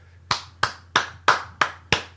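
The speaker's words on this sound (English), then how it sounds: "I'm gonna give you guys the applause for handling your biz." Six single hand claps at an even, unhurried pace, crisp and moderately close, with a faint low hum underneath and no voices.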